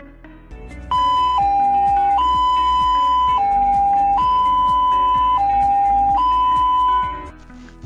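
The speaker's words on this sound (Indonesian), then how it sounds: "Ambulan sedang menjemput pasien, begini suara sirinenya guys." Ambulance siren sounding while the vehicle picks up a patient, a loud two-tone wail alternating steadily between high and lower pitches for several seconds, close and dominant.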